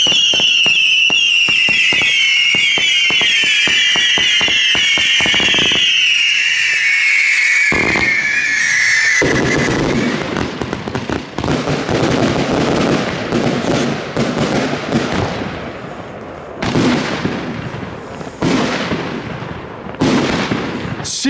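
New Year's Eve fireworks and firecrackers in the Netherlands: a long crackling barrage of rapid pops and whistling rockets, then dense booming and crackling bursts that keep going loud and close throughout.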